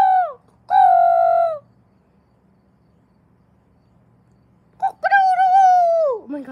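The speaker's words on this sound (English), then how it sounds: "Oh my gosh, that's a rooster." Rooster crowing, two loud, close harmonic calls separated by a quiet pause, the second longer and falling off at the end, with a faint low hum between them.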